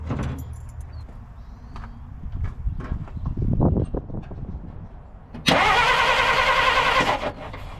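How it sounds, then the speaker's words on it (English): A 1950 Dodge Meadowbrook engine is cranked over, starting with faint clicks and uneven mechanical knocks, then a louder cranking burst of about two seconds before it drops away. "When I turn the engine over, you should see a spark there."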